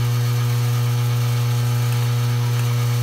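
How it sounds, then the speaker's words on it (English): An electric meat grinder runs a second grind of deer meat, giving a loud, steady, close motor hum and drone with no talking. "at whatever pace the grinder can take"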